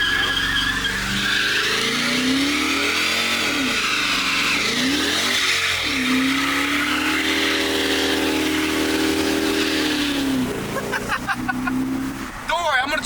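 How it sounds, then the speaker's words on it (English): A Dodge Charger R/T does a burnout, its engine roaring and revving hard as the tires squeal loudly and continuously up close, with the pitch rising and falling before easing near the end. "Doing really cool, awesome burnouts."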